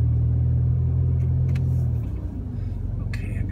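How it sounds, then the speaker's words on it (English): A small car rumbles past close by on a street in Charlottetown, Prince Edward Island, its engine noise loud at first and then dropping away as it moves off. "there's a tiny little car on your right"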